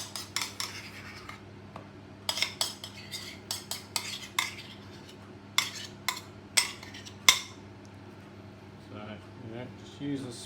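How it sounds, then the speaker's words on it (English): Metal spoon scraping and tapping in a pastry case while spreading jam for a Bakewell pudding, a series of close clinks and scrapes at irregular intervals over a low hum, with a voice talking. "Just use a spoon, carefully spread it around."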